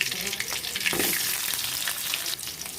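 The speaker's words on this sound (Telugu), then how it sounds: "ఇప్పుడు ఇందులోకి మనం ఆనియన్స్ కట్ తీసుకున్నాం కదా ఆనియన్స్ యాడ్ చేసుకున్నాం" Chopped onions sizzle in a pan of oil, a dense, steady, close frying hiss with light stirring scrapes throughout.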